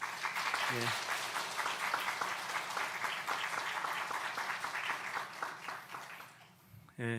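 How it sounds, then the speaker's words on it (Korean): A church congregation at a Sunday worship service applauds warmly, with sustained clapping throughout and brief bits of voice near the start and the end. "우리 인사할 때 큰 박수로 격려해 주시기 바랍니다"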